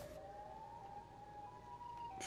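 A long, wailing siren tone from the Siren Head monster in Minecraft holds steady and slowly rises in pitch, eerie and sustained, with no talking.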